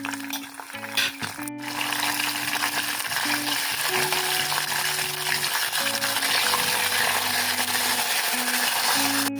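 Dried red chillies and green chillies frying in a pan and being stirred for lemon rice, a loud, constant hissing sizzle with a few early scrapes and a low steady hum underneath, no voices.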